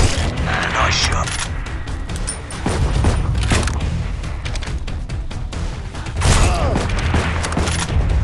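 Booming sniper rifle shots go off in the mobile shooter Sniper X, several sharp loud blasts with reverberant tails over a dense game soundscape, and a voice speaks between them.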